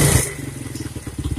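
A Yamaha Vega ZR manual-clutch motorcycle with a gear-skipping and stalling fault starts up, its engine settling into a rapid, loud, evenly pulsing putter close by.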